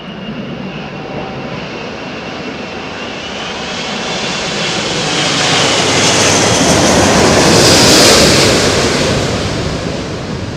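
Airbus A380 jet engines roaring at London Heathrow Airport, a loud continuous broadband rumble and whine that swells to a peak around the middle-to-late part as the aircraft passes close, then eases slightly.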